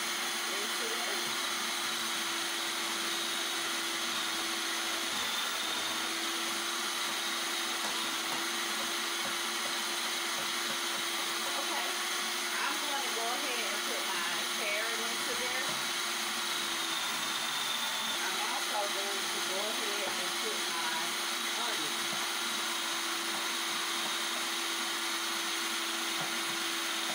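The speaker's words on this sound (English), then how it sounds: "I am going to cut this on high, and I'll just put this my cabbage into it" A food processor running on high speed, chopping cabbage for coleslaw, gives a steady, loud motor whine that continues for the whole stretch with no break, while a voice talks over it.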